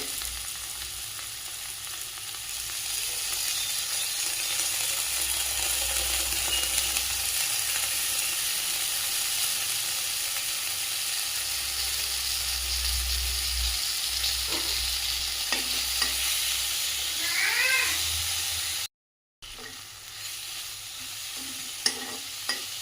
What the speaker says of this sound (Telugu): కాసేపు ఫ్రై చేసుకుంటే సరిపోతుందండి టమాటాతో పాటు చింతపండు కూడా మెత్తగా మగ్గిపోతుంది